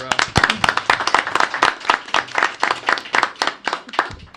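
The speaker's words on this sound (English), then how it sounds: "I think actually I'd like to give them a round of applause for" Audience applause at a Rising Sun, Maryland Board of Commissioners meeting: a small room of people clapping in a loose, uneven patter of distinct close claps, fairly loud and steady throughout.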